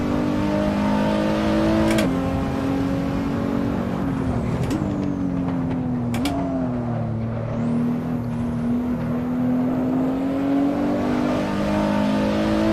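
All-wheel-drive supercar engine in Assetto Corsa pulling hard down a straight, a loud continuous drone climbing steadily in pitch with a few brief shift dips and tire or wind hiss on top.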